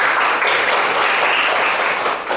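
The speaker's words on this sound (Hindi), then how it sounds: "इसके लिए एक जोरदार ताली होगा।" A room of schoolchildren in a Hindi dictation class in Jharkhand gives a loud, sustained round of applause, the clapping thick and continuous before fading slightly at the end.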